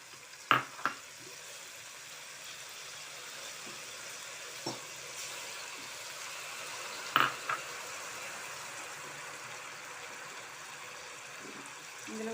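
Tomato pieces fry in a pan with a faint, steady sizzle and a few soft clinks and taps from the pan.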